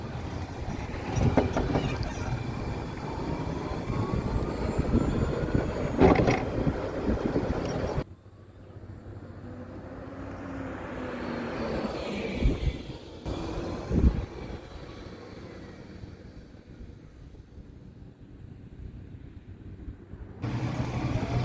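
A charcoal 2021 EZGO RXV electric golf cart drives along, giving a soft, low rolling rumble with a faint motor whine and shifting road and wind noise, fairly quiet throughout with no talking.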